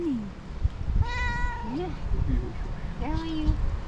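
A hungry long-tailed cat meows by a swimming pool, several drawn-out, fairly loud calls close by, with people's voices murmuring alongside.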